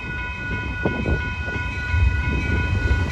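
Passenger train led by a P42DC locomotive rolling past close by, a loud continuous rumble with wheel noise and a steady tonal hum, no talking.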